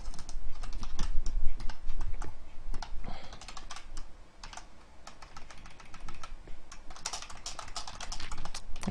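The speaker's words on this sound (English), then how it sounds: "I'm sure you can hear me typing." Rapid, loud clacking of a mechanical gaming keyboard, keys struck in quick irregular bursts with brief pauses, close to the listener.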